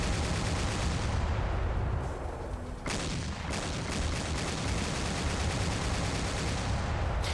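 A Hydra autocannon fires in a Warhammer 40k mod of a military shooter game, a loud, continuous roar of rapid heavy shots with a brief dip, then sustained fire to the end.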